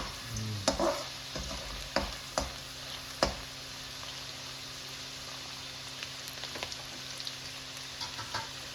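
Chicken masala for methi chicken fries in a pan with a soft, continuous sizzle. A few sharp spoon clinks and stirring knocks come early, then the frying settles into a quiet, even hiss.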